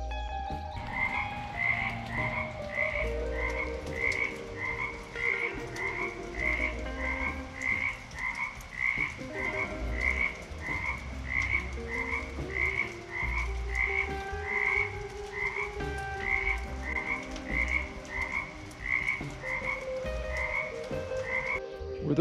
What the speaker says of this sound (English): Were those frogs just doing their early spring thing in our backyard?